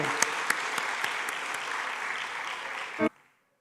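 Loud, dense applause from a church congregation during a Sunday service, with a few sharper claps poking out, ending abruptly with a brief final burst.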